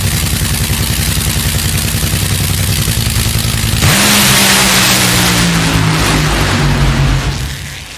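A funny car drag-racing engine idles with a loud, rapid clatter during a qualifying round, then explodes into a roaring launch that stays loud for several seconds before fading.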